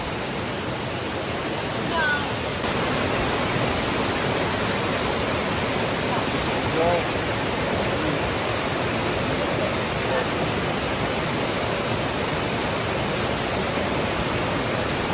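Waterfall near Tay Thiên temple in Vietnam, a loud, constant roar of falling water that fills the whole scene without letup, with a brief faint voice buried in it.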